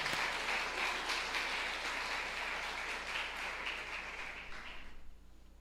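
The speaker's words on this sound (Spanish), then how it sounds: "Dale ese aplauso al Señor." Congregation applauding at a church service, a dense, steady wash of many hands clapping that carries on for several seconds before thinning out and fading near the end.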